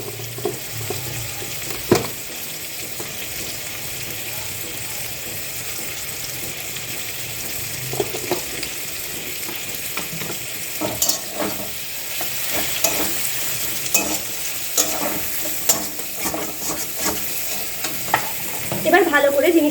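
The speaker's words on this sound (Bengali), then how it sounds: "তারপর টমেটো কুচিগুলোকে এর মধ্যে দিয়ে আবার ভাজবো" Chopped tomatoes frying in a pan while being stirred, a steady soft sizzle with scraping and clinking spoon strokes throughout, close and moderately loud, with no talking.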